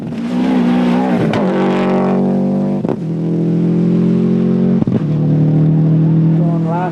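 A rally car roars through Lurgan Park during a 1998 rally stage, its engine loud and close, with strong revving that rises and drops through gear changes, broken by brief sharp gaps.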